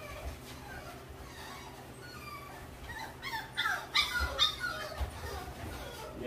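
An American Bully dog whimpers and yips in short, soft bursts during a clean-up, faint and intermittent, with a person talking nearby.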